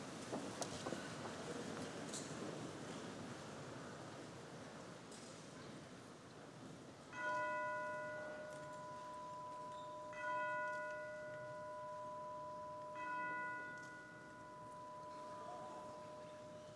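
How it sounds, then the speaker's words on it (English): A bell rings three times, evenly spaced, during a memorial tribute at a 2016 high school graduation ceremony. Each ring is a clear tone that fades slowly over a quiet, distant crowd hush. "as a bell chimes 3 times in their honor"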